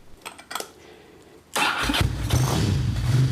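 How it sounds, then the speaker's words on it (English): A Ducati motorcycle engine cranks with a couple of short starter bursts, then catches and fires into a loud, rumbling idle after a wet compression test with fresh plugs, heard close up without speech. "Bike starts up nicely."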